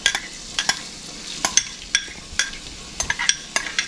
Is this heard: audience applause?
no